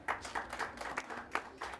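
Faint, distant applause at a cultural heritage symposium, a thin patter of individual claps from a small audience lasting under two seconds.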